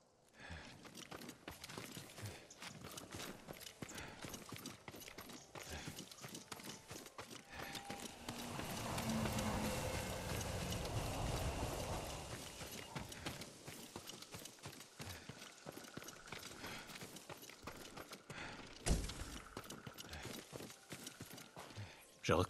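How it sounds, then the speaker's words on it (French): A farm horse's hooves clop steadily on a stable's hard floor in the video game Ghost of Tsushima, close and rhythmic, with occasional louder knocks and low rumbling in the background. "Un cheval de ferme, pas un cheval de guerre."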